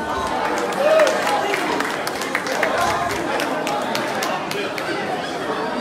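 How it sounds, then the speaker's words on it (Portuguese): An audience applauds a jury member at a 2019 mask contest in Agualva de Cima. Scattered clapping mixes with crowd chatter and voices throughout. "Salva de palmas para o Paulo Rocha"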